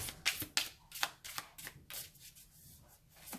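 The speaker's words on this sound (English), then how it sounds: "I really like how it shuffles." Close, quick riffles and slaps of a haunted house tarot deck being shuffled, a run of sharp papery bursts that fade into softer sliding.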